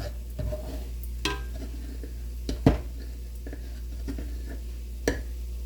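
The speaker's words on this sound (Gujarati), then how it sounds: "આ રીતે આપણો લોટ શેકાવા દેવાનો છે।" Quiet scraping and stirring of wheat flour roasting in ghee for sukhdi, with soft sizzling and occasional clinks of a spoon against the pan.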